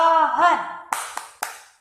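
After a sung syllable from a voice, three brisk, evenly timed hand claps ring out nearby in a playful children's tree clapping routine.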